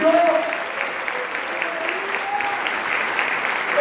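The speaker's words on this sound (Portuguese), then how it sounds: "Será que você pode aplaudir o nome do Senhor?" Steady applause from a church congregation during a ministry training event, continuous clapping at an even level with a voice talking over it.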